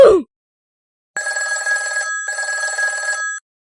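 An old-style telephone bell rings in two loud, buzzing bursts separated by a short pause, following a brief sound at the start.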